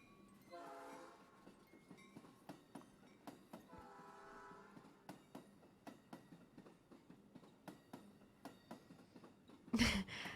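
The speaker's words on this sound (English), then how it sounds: "The sound of the train is so realistic, of the very old trains." An old train in the video game The Stillness of the Wind rolls past with steady clickety-clack rhythm of wheels over rail joints, a low rumble underneath, and a loud horn blast near the end.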